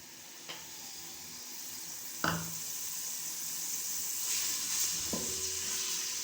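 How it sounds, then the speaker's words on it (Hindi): Ginger garlic paste sizzles and spits in hot ghee and oil with a steady frying hiss, broken by a few sharp clinks of a utensil against the pot. "तकरीबन 2 चम्मच घी तेल है, ये अदरक लहसुन का पेस्ट है, ये हम बीच में डाल रहे हैं।"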